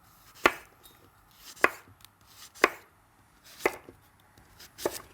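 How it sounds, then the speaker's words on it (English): A knife cuts zucchini on an angle against a cutting board in five crisp, evenly spaced chops about a second apart, close and clear in a quiet kitchen. "I'm just going to slice my zucchini on an angle"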